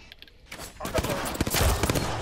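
A double burst of video game gunfire landing headshots in Apex Legends-style squad play, quick sharp cracks layered with game effects and impacts, moderately loud and close, with team voices mixed in.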